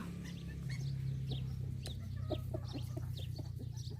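Several chickens cluck close by in short, scattered calls over a low steady hum, with faint chirps from other birds.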